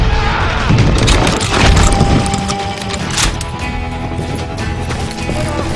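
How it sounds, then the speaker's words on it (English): Loud, dense gunfight audio from the western game Call of Juarez Gunslinger, with booming shotgun blasts and a continuous crash of shots and effects throughout. "I was just glad I had Deputy Bob's mean-ass shotgun"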